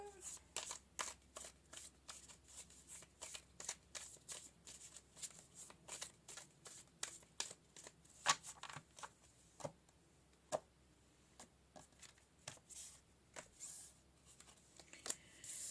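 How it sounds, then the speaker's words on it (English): Tarot cards being shuffled by hand, a long run of quiet, crisp riffling flicks and soft taps in an uneven rhythm, close and faint in a still room. "let's pull some tarot"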